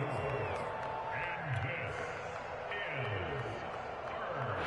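A stadium crowd in an American football video game, a Rams versus 49ers matchup, roars steadily at moderate volume late in the fourth quarter, with a broadcast-style commentator talking over it.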